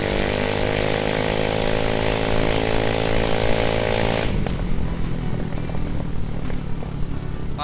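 A Yamaha Mio M3 scooter fitted with an Emberr Gledek exhaust revs hard and holds a loud buzzing drone, then drops off sharply to a rougher, uneven idle with short blips, close by and without talk.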